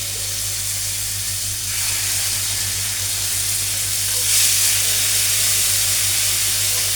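Tomato paste sizzling and hissing in hot oil for Egyptian koshari, a steady close frying crackle that swells briefly louder partway through, with a low hum underneath.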